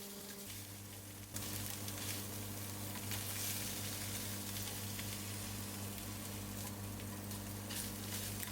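Fried tuna seasoned with salt and pepper sizzles steadily in a hot pan while being stirred, a dense continuous frying hiss that jumps louder after the first second and holds close and even, with no talking.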